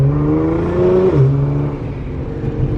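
Nissan R35 GTR or BMW M4 GTS sports car engine revving with a loud intake note, a rising tone that dips briefly and then settles into a steady throaty drone, close by.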